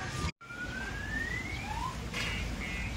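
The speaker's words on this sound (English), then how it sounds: "you hear that, or that car alarm?" Car alarm or siren-like wail near a boat dock at Lake Toba, Samosir, Sumatra, with rising and falling tones over steady background noise, a brief dropout early, heard at moderate distance.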